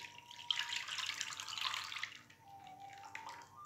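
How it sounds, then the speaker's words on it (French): Flognarde batter pours into a buttered baking mould as a soft, quiet liquid stream that swells and then tapers off over a few seconds, alone with no talking. "Je vais pouvoir verser mon appareil à flognarde dans mon moule beurré."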